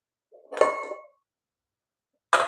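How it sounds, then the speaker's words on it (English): A skillet handled in a home kitchen: a brief metallic clank and scrape near the start, then silence, then another short clatter at the end, close and moderately loud. "I think I'm gonna use the skillet that's right here."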